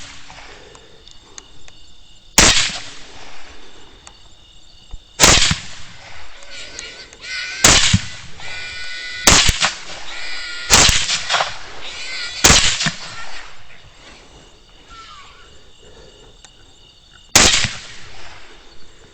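Rifle shots fired at hogs at night, about seven sharp loud cracks spaced unevenly across the stretch, each standing out clearly against a quiet outdoor background with faint insect noise.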